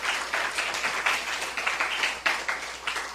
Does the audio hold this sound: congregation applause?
yes